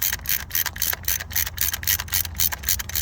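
A socket driver ratchets on a Ford Focus camshaft sensor bolt, giving a close, steady run of quick metallic clicks that keeps a regular rhythm through the whole stretch, with nothing else heard.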